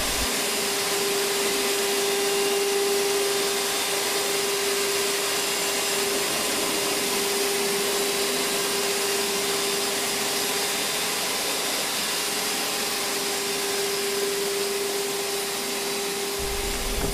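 An AXYZ CNC router cutting with chip extraction running gives a steady, loud whooshing roar with a constant whine, unbroken and close, with no voices.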